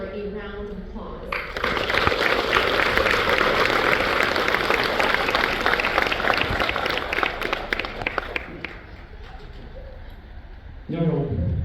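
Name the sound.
audience applause at class of 2026 ceremony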